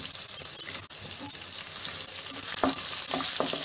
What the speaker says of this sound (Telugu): వెల్లుల్లిపాయలు వేగాయి కదండి ఇప్పుడు ఇందులోనే ఎండు మిరపకాయలు వేసుకొని వేయించుకుందాము